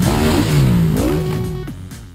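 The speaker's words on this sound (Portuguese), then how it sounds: "Depois viemos testar as motas." An enduro motorcycle engine being tested near Figueira da Foz, revving loud and close with rising and falling pitch, then easing off as the roar fades slightly.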